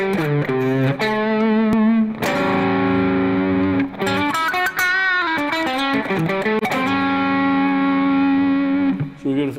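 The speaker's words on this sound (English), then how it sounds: "So that's like this green tube screamer here. That's like a smoother distortion." Electric guitar played through a green Tube Screamer overdrive pedal gives a smooth, sustained distorted tone, with loud chords and single notes ringing continuously throughout.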